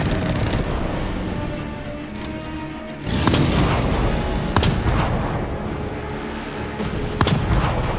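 Close-range shotgun blasts in the horror game The Evil Within 2, a few heavy booming shots at irregular intervals over a dense, loud rumble of combat noise.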